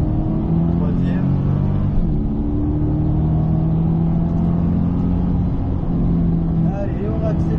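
A Corvette C8 accelerating hard through the gears on a circuit during a driving course, a loud close engine drone rising steadily in pitch, with a brief shift and an instructor talking over it.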